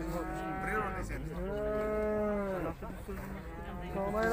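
A cow lows several long, drawn-out moos at a livestock market, near and loud, with a short break before another moo, over a low background murmur of the market.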